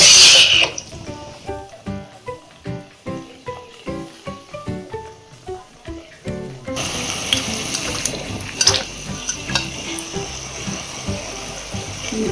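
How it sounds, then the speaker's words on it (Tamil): Tamarind water poured into a pan of radish chutney, beginning with a short splash, then a run of rhythmic gurgling pours, then a steadier, louder sizzling splash; close and with no talking. "புளி கரைச்சிட்டு ஊற்றணும்"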